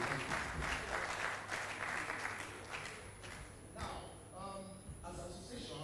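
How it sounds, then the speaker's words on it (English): Audience applause at LASUMBA Week, a Lagos State University event: dense clapping fills the room at moderate level, thinning toward the end as a voice speaks over it. "let's give a round of applause to people"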